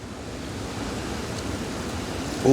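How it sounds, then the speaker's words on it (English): A big, cold gust of wind blows across an outdoor spot in below-zero weather, a loud continuous broadband rush that holds steady and close to the microphone. "So I'm sure you can hear that big gust of wind."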